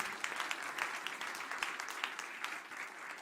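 Applause from a church congregation on a cold day: a modest gathering clapping at a quiet level, the individual hand claps sounding distinct and uneven as they continue steadily throughout.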